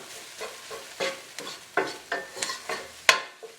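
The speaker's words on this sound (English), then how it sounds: "Give that one more little stir." Cabbage and herbs being stirred in a pot in a Caribbean kitchen, a series of short scraping, rustling strokes about every half second, close and fairly loud, with faint sizzling beneath.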